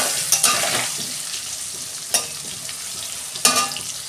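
Potatoes fry in a pan with a soft steady sizzle, and a spatula scrapes and stirs them in three sharp strokes spread across the stretch.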